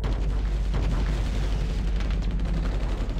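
Rapid gunfire in the video game Terminator: Dark Fate - Defiance crackles continuously, dense bursts of shots with booming low end, loud and close, firing nonstop.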